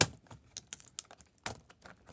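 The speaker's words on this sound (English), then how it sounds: "Attempting to detach the keyboard." Plastic keyboard keys and panel on a Dell Latitude D620 laptop click and rattle as the keyboard is pried loose, a series of irregular close taps and clacks with brief pauses between them.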